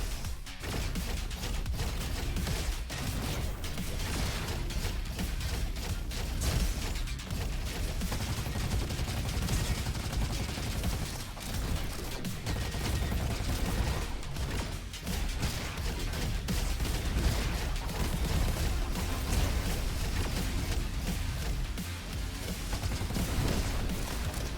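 A dense, unbroken barrage of missiles and gunfire in the shooter game Roboquest, with explosions and rapid shots piling over one another, loud and steady throughout with no talking.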